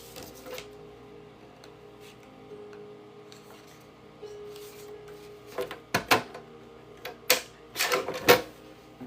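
Scissors cut paper pieces for a composition notebook cover, a few faint snips early, then a run of sharper, louder clicks and crunches bunched near the end over a quiet background.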